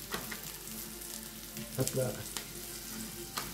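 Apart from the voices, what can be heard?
food frying in butter in a pan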